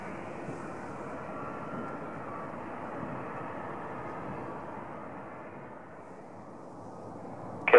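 An Antonov An-124 cargo aircraft arrives at Calgary airport, its steady broadband engine roar holding for several seconds before fading slightly, then swelling again near the end with a brief sharp burst.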